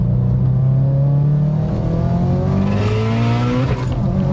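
A big-turbo Subaru STI engine revs loudly and climbs in pitch as it accelerates, steady and close, with no talking over it.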